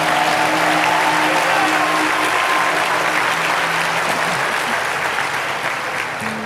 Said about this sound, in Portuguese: Está tímido demais essas palmas.